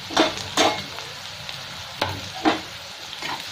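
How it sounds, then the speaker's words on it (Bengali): Onions frying in a pan until crisp and brown, with a few sharp stirring scrapes and bursts of sizzle standing out over a low, steady background fry. "এই পেঁয়াজগুলো ভালো করে ভেজে নিতে হবে আমাকে, একদম বেরেস্তার মতো।"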